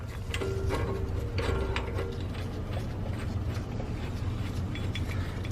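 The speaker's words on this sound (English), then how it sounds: "then you spin out this nut until it's tight" Brake caliper compression tool nut being spun during rear brake pad replacement on a 2009-2020 Dodge Journey, producing continuous close mechanical ratcheting and grinding clicks for several seconds with no speech.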